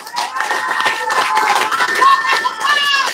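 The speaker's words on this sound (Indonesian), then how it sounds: "Sekali lagi kita berikan tepuk tangan kepada LBH AP Muhammadiyah" Steady applause from a crowd, continuous clapping with some scattered cheers, moderately loud throughout.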